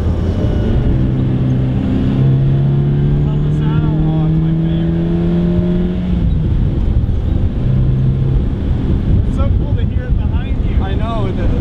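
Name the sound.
1978 Fiat X1/9 engine accelerating while driving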